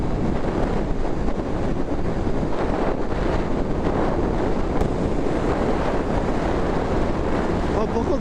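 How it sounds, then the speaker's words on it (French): Strong, constant wind roar buffeting the helmet microphone of a moving motorcycle, loud and unbroken throughout the ride with no speech heard. "par contre le vent, ça déchire"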